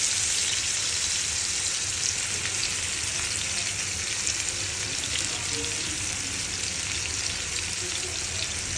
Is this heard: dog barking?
no